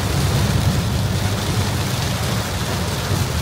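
Heavy rain pours steadily, a dense continuous hiss and drumming with a low rumble underneath, no voices.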